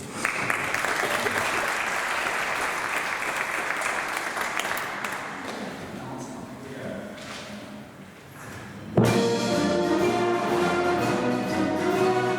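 At a pipe-and-drum band concert, the audience claps along to a song. Steady, dense applause fills the hall, fading slightly before loud band music kicks in near the end.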